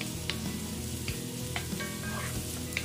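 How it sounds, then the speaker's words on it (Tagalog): Zucchini and shrimp sauté in a pan as chicken bouillon cubes are stirred in, a steady loud sizzle with light utensil scrapes and taps repeating throughout, no voices present. "so halo-haluin natin para matunaw yung cubes"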